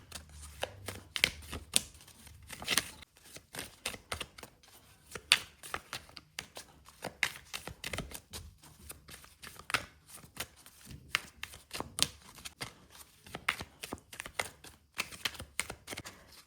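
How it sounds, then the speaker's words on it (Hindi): Tarot cards are shuffled by hand in repeated crisp riffles and soft slaps, a steady, irregular patter of close, light clicks running continuously with no voices. "मैं कार्ड शफल कर लेती हूँ अच्छे से"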